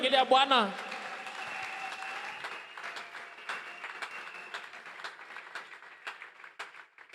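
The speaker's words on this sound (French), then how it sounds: "Est-ce qu'on peut acclamer le Seigneur?" A church congregation breaks into sustained applause, a broad wash of clapping that starts strong and gradually thins toward scattered claps, with a voice speaking over the opening.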